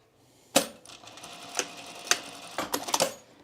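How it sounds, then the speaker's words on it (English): Sewing machine stitching a seam in blue thread on a camisole with a bra shelf: a few short, separate bursts of mechanical chatter with quiet gaps between, fairly close and alone with no talk. "take this to my regular machine and I'm going to sew this together in half"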